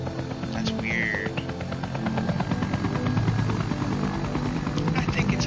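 A helicopter in the Resident Evil video game drones with a steady rotor thrum and engine whine, joined by brief high chirps, under game music.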